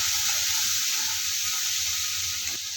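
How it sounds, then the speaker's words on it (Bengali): A spice paste with salt, chili powder and turmeric fries in oil for a fish curry, giving a steady, close hissing sizzle with a faint low rumble and no talking. "মশলাটা কষানো হয়ে গিয়েছে"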